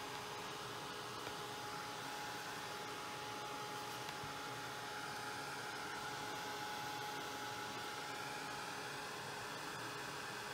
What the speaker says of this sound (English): But the heat gun will dry it, I promise.